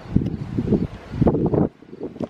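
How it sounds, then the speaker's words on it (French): Strong wind gusts buffet an outdoor microphone in loud, rumbling bursts, surging and easing twice before dropping to a quieter lull. "Beaucoup trop de vent ici."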